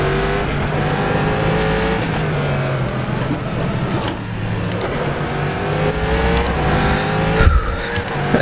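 A Corvette C7.R GTE race car in rFactor 2 at Sebring nearly spins through a corner: a loud, close engine drones and shifts in pitch while tires squeal and skid, and a louder burst of revving comes near the end.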